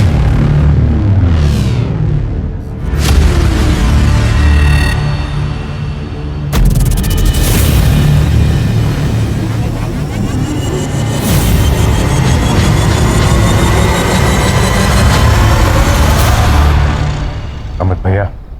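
Firecrackers burst loudly during a festive celebration, a run of heavy booms and crackling blasts following one another over about eighteen seconds, with voices of people in the crowd mixed in.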